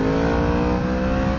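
A Yamaha MT-10 motorcycle engine revs hard under acceleration, a loud, close, continuous roar with rising harmonic tones and no voices.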